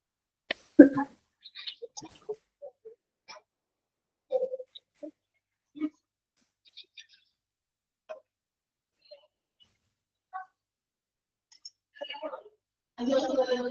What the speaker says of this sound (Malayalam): ചുമ വരുന്നുണ്ട്, അതുകൊണ്ടാണ്